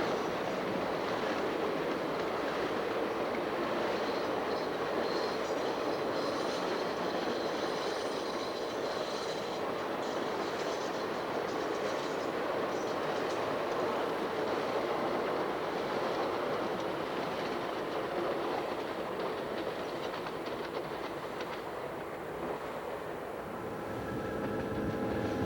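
Canadian Pacific eastbound train passing Nick Morant's Corner in the mountains, a continuous loud roar of rolling wagons with squealing wheels that holds steady throughout.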